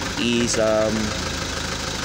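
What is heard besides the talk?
car engine running rough with one injector cut out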